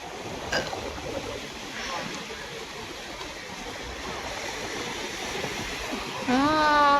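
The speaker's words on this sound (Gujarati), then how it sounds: "મોજા જેવા આવશે." Steady sea wind and rushing waves roar throughout at Dwarka, broad and continuous, with a faint tonal whine rising near the end.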